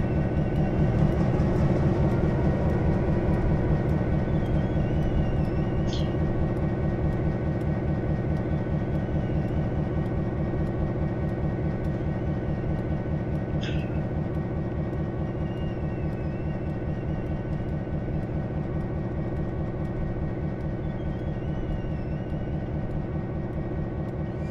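Locomotive in Train Simulator 2015 during shunting, a constant humming diesel drone with a couple of brief faint clicks, steady and unbroken for the whole stretch.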